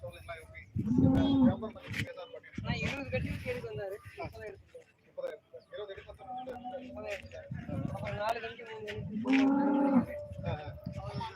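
Two long, drawn-out moos from calves and cows, one early and one near the end, with people talking nearby in between.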